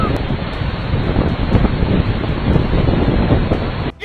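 Powerful floodwaters surge through Baalbek, Lebanon, after a heavy rainstorm, a loud, continuous broadband roar of rushing water and wind buffeting the microphone that holds steady for about four seconds before cutting off abruptly.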